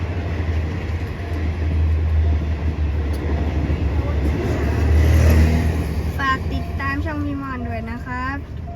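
A steady rumbling express train, Bangkok–Chiang Mai train 13, passes nearby over a level crossing for several seconds, with rising whistle-like tones near the end and people talking over it.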